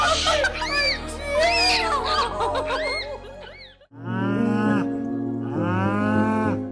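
A cow, grieving after her calf was taken away with severe pneumonia, moos loudly and close by in long drawn-out calls, with a higher, wavering vocal sound heard first.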